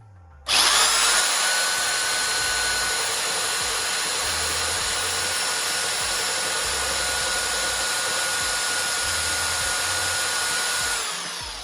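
A Parkside PBSD 900 A1 belt sander starts up and runs steadily on a piece of timber, a loud, close, continuous whine with a motor drone underneath, holding constant until it cuts off near the end.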